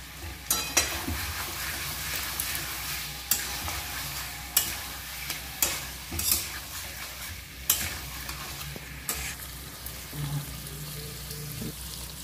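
Fried potatoes going into a sizzling pot of chicken biryani with masala and meat, stirred with steady frying hiss and periodic scraping clinks of a spoon against the pot, no voices.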